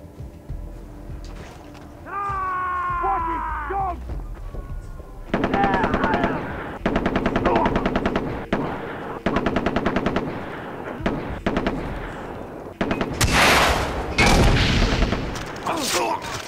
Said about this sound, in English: I heard that rocket go off